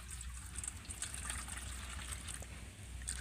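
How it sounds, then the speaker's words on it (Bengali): Cold water poured over boiled eggs, a faint, steady trickle and splash of running water under a low hum, with no voices. "আমি এই ডিমগুলোর মধ্যে ঠান্ডা জল দিয়ে দেব"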